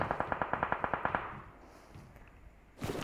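Rapid automatic gunfire from the PUBG Mobile video game sounds as a quick, even string of about a dozen shots, followed by a low fading echo and a louder burst at the end.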